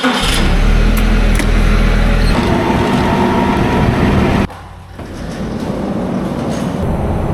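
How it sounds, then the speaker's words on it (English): A truck backing a trailer into a farm shed in winter, a loud steady engine rumble that drops off sharply midway and then rises again. "so he's just backing the trailer into the shed."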